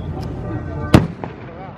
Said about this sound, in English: They've been firing off old school weapons from a boat?